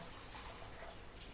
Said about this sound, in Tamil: தண்ணி போட்டுக்கோங்க.